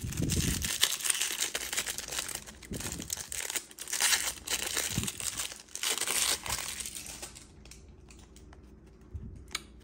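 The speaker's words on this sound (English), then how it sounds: "let's rip into some beautiful junk wax packs and see what we can get." Crinkly cellophane wrapper of a 1989 Donruss baseball card pack being torn open and handled, a steady close rustling and crackling that fades out near the end, no voices.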